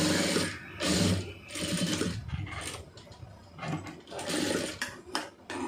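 A sewing machine stitches the lining of a round neckline in quick, rattling bursts, starting and stopping several times at close range with no talking.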